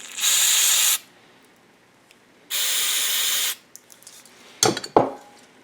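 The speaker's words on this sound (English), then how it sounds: "So a little bit of brake clean in this." Two steady bursts of brake cleaner spray onto an ice auger part, each lasting about a second, followed by a few sharp knocks and clatters of handling the part.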